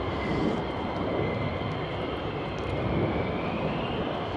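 A fighter jet's engine starts up at RAF Lakenheath, a loud, steady roar that builds and holds, with a high whine rising above the broad rumble, close by and with no talking.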